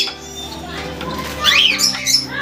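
Pet cockatiels, sun conures, pineapple conures and lovebirds at an aviary setup give loud, near, harsh squawks that rise toward the end over a background of chatter.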